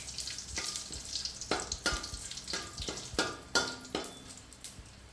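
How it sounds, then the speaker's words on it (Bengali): Whole spices spit and crackle in hot oil in a pan for chicken biryani, a series of sharp sizzling bursts at irregular intervals, fairly quiet and close with no talk. "গোটা মশলাগুলো একটু ভাজা হয়ে গেলে এইবারে পেঁয়াজ দেব।"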